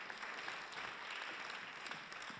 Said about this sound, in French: on peut les applaudir pour les encourager